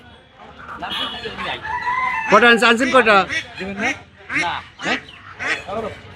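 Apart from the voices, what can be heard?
native chickens and ducks at a rural market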